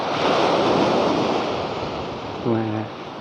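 Surf washing onto a Thai beach at Sai Kaew with clear water, a steady broad wash of waves close by with wind noise on the microphone, and a brief voice near the end.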